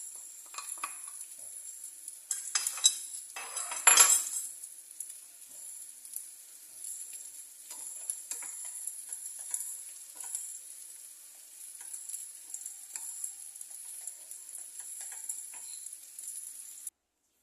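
Brown rice is dropped into a frying pan and stirred, starting with a few clattering scrapes and a sharp burst, then a steady quiet sizzle with occasional light scraping.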